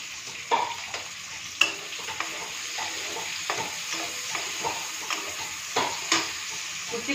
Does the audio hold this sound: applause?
no